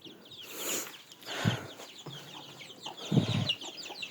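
Chicks and chickens eating grain in a village yard make soft clucks and brief chirps, with a few louder bursts between quieter stretches.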